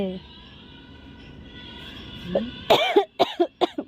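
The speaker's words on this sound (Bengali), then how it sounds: "কাশি হচ্ছে তো" Several sharp coughs in a quick burst near the end, close and loud, after a stretch of low background rumble.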